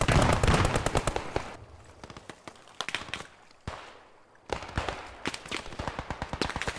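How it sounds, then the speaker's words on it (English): Machine gun fire in the tactical war shooter Post Scriptum: loud rapid bursts of rattling shots, with a few short pauses and scattered single cracks between them, and more distant gunfire echoing in the gaps. "That's a machine gun."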